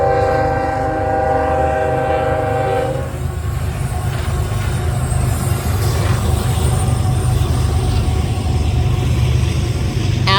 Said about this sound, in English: After that frac sand train passed